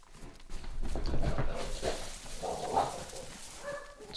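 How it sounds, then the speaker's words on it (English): Dogs barking and whimpering indoors, with short yips and barks repeating through the moment over a steady background, fairly close to the microphone. "Excuse my dogs."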